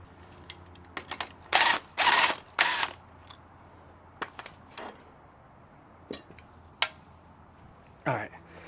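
Tools work on the lower skid plate of a Suzuki LT250R ATV, giving several close bursts of ratcheting and a power-driver whir among scattered metallic clicks and clanks.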